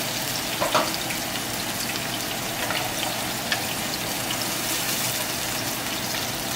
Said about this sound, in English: My pan is pretty hot, that's why my onions cook.